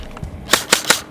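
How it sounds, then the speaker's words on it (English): A Classic Army Skirmish Line airsoft gun, damaged during a torture test, fires three sharp, close snapping shots in quick, even succession, preceded by a few faint clicks. "Let's see if it fires."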